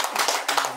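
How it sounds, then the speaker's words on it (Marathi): A crowd applauds to welcome a speaker, with dense, close, steady clapping throughout. "सर्वांनी टाळ्या वाजवून स्वागत करायचं"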